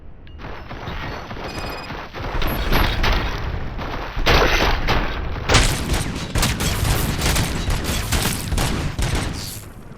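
Sustained gunfire and fusillade in the RoboCop: Rogue City video game, a loud dense barrage of rapid shots and booms that builds after a few seconds and keeps hammering with no pauses.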